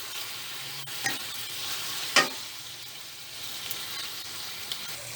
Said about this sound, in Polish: Sól, pieprz wrzucamy na cebulkę, smażymy jakieś 5-7 minut